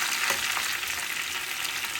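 Curry leaves and tempering spices fry in hot oil for rasam, giving a steady, close, bright sizzle that hisses without a break.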